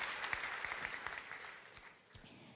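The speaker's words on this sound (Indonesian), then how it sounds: "Beri tepuk tangan yuk buat Tuhan kita Yesus Kristus" A church congregation claps together during a Sunday worship service, a soft, steady patter of many hands that runs throughout and fades slightly near the end.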